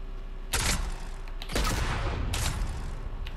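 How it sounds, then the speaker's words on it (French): A new weapon fires in a video game: three loud separate bursts of sharp blasts, each trailing into a rumbling decay, with quiet pauses between them. "On va tester une nouvelle arme."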